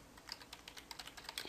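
Computer keyboard typing while coding HTML: rapid, light key clicks in an uneven stream, soft and close over a steady background hiss, with no voice.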